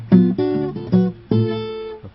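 Guitar plays the start of the chorus of a song: a quick run of plucked, punchy notes in a bouncy rhythm, then one longer ringing note, close and alone.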